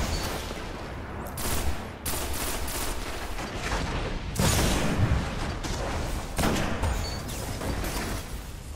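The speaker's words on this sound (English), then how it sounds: "Ah, the fucking mining grenade." In the Destiny game, a mining grenade blows up amid rapid gunfire, sharp cracks and booming bursts layered in a dense, loud barrage.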